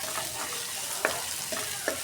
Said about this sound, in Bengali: আগে পেঁয়াজ বেরেস্তাটা করে নিতেছি।